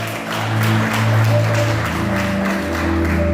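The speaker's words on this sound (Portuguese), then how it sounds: "Se vai aplaudir, aplaude o nome do Senhor, irmão." Church congregation applauding during a Friday worship service, a dense wash of clapping across the whole stretch, with sustained organ or keyboard tones held underneath.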